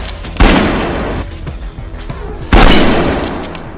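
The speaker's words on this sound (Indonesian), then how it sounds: "si detektif juga muncul di sana untuk turut membantu Gam dalam aksi baku tembak" Gunfire in an action film shootout, two heavy booming shots about two seconds apart, each with a long decaying echo, separated by smaller scattered cracks and clatter, loud and alone without speech.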